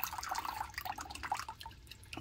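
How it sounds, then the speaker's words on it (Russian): Rosehip and badan tea poured from a thermos into a container, a close, trickling liquid stream with small drips and splashes, steady and fairly quiet with no talking. "Теперь дело за чаем из шиповника и бадана, который у меня тут в термосе. Наливаем"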